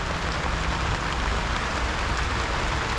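Steady rain falls outside, a dense, continuous hiss of drops on surfaces with no breaks or voices, fairly loud and close throughout.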